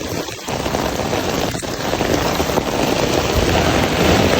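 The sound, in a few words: heavy rain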